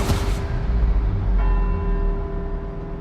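Church bells ring across Edinburgh in the video game Forza Horizon, a loud, steady wash of bell tone with a sustained hum throughout and no voices.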